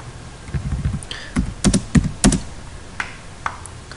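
Quick bursts of keystrokes clatter on a computer keyboard while AutoCAD commands are entered, close and crisp, in uneven clusters with short pauses between them.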